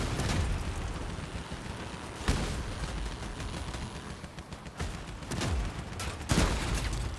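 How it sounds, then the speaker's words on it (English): A mine blast in the vehicle combat game Crossout, set amid ongoing battle noise, with a dense rumble of gunfire and several sharp explosive cracks scattered through the clip, the loudest near the end. "Oh man, those sneaky little mines."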